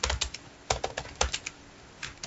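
Someone types on a computer keyboard while writing an Excel VBA macro, producing close, crisp key clicks in short uneven bursts with brief pauses between them.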